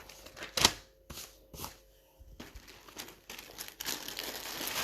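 Papers rustled and crinkled in a hand, a sharp crackle followed by scattered soft rustles and then a denser, continuous crinkling toward the end, close and fairly quiet.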